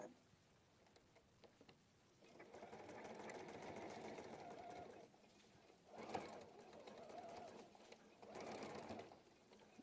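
Sewing machine stitching a seam at a quilting table, running in three bursts of steady whirring separated by short pauses; quiet and close, with no talk.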